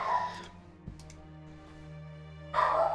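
A dog barks from upstairs in a house, a few muffled barks at a distance, with a steady low hum underneath and no talking.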